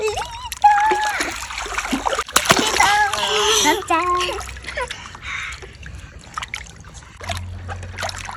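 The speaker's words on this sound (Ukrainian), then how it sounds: "тобі сподобався такий мега бризки?" Water splashes in an outdoor pool, with bursts of spray and a big splash amid excited children's voices and adult talk.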